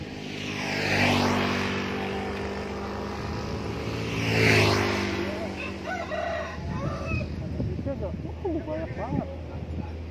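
A truck passing along a road on Java's southern route in West Java, with two loud sweeping pass-bys rising and falling within a few seconds, followed by quieter traffic and chirping in the background.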